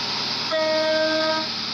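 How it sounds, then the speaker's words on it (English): A train in the Roblox game Stepford County Railway sounds its horn as it arrives at Stepford Central station, one steady, loud horn blast of about a second over a constant rumble. "The train now approaching platform 0"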